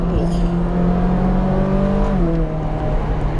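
Ferrari 458 Speciale Aperta V8 engine revving inside a tunnel, a loud, steady tonal drone that climbs slightly and then drops in pitch as the car shifts, close and echoing.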